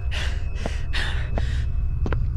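Heavy, rhythmic breathing of a tired character in the horror game Fright Night: four long, breathy gasps in steady succession, close and loud over a low rumbling background, followed by a short sharp intake.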